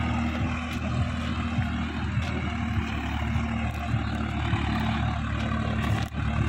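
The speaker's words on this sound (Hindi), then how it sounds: "बहुत प्यारी आवाज़ है तीनों ट्रैक्टरों की" A Swaraj 744 FE tractor diesel engine runs steadily with a low, even idle rumble, constant and fairly close, with no talk over it.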